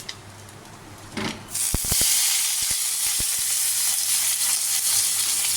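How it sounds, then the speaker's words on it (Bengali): Potatoes hit hot oil in a wok and break into a loud, steady frying sizzle after a few sharp clatters, continuing close and constant to the end. "তারপরে এটাতে তো তেল আছে কড়াইতে, আর তেল দেবো না, এরপর আমি আলুগুলো ভেজে নেবো।"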